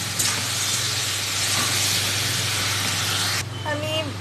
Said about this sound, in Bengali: এবার আমি এটাকে 5-6 মিনিটের জন্য ভেজে নেব এরকম করে।